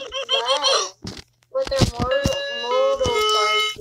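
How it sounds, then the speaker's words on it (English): A doorbell in the game Bloxburg chimes in a series of bright, ringing tones, overlapped by voices talking. "That's a new doorbell ringer."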